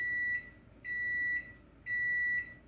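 Three identical electronic beeps, evenly spaced and moderately loud, come from the control panel of a kitchen oven as it is set to 325 degrees and started for baking a lemon pound cake.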